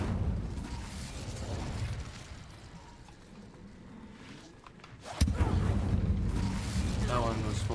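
An explosive-filled object blows up in Hogwarts Legacy. A sudden loud burst cuts through softer game ambience and is followed by a sustained, rumbling aftermath.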